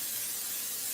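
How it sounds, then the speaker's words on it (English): Pam non-stick cooking spray hissing steadily onto a cookie sheet in a home kitchen, one continuous close spray lasting about a second with no talk. "Just gonna use some Pam here"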